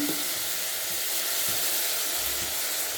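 Turmeric powder sizzles in hot oil in a pan for vegetable pulao, giving an even, continuous hiss that holds steady throughout with no talking.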